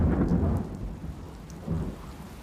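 Torrential rain pours steadily in a tepui rainforest, a loud broadband roar with deep rolling thunder rumbling through the opening and swelling again near the end, no voices present.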